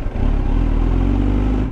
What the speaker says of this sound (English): if you're just sitting at a stoplight and you're kind of rev bombing like this